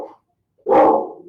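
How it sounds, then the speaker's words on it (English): A single loud, close dog bark bursts out after a short silence, with a fainter yelp just before it, heard indoors during a live yoga session. "Why are you barking?"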